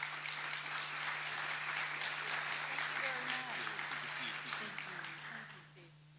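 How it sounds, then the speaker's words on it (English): An audience applauds Senator Kay Bailey Hutchison at a policy event, steady clapping that tapers off near the end over a low hum while a voice briefly speaks. "Please, a warm round of applause for Senator Kay Bailey Hutchison"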